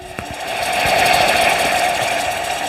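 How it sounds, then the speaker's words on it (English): A Hauture 3-in-1 baby bottle warmer runs with a steady mechanical buzz and hum, close and continuous after a couple of faint clicks at the start, with no talking. "I can see the warming noise already in there."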